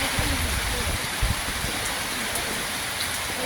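Heavy rain with strong wind pours down in a constant hiss outside a street food stall, with a few low gusty thumps near the start.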